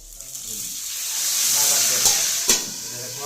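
Tempering (baghar) poured into a Bengali curry of hilsa, green banana and tomato sets off a loud, close sizzle that swells steadily, punctuated by two sharp spoon clinks near the end, no talking.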